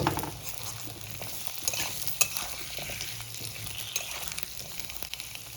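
Potatoes are stirred with onions in a frying pan of hot oil, giving a lively close sizzle broken by scraping spatula strokes and occasional clinks, without speech.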